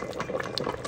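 Filipino menudo simmering in an open pot, a close, steady bubbling and popping of thick liquid over a short moment, with no voices.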